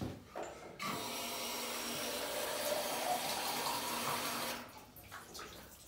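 Water pours in a steady, continuous stream for several seconds, close by, then stops abruptly into quiet.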